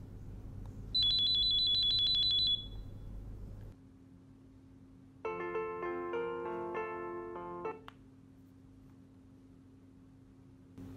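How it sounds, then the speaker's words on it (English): A Wildix W-AIR Lifesaver DECT handset sounds its man-down alarm in a conference room: a sustained high electronic tone, a pause with a low hum, then a rapid multi-tone ringing burst, close and clear. "Alarm man down triggered in the conference room."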